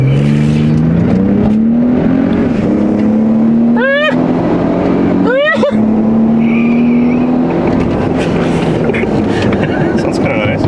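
A 2022 vehicle fitted with a Magnaflow Overland Series exhaust revs and accelerates past outdoors, a rising engine drone with sharp shifts, loud and near, while people talk and shout over it.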